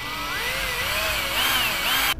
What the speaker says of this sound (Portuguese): Depois furamos nessa base maior.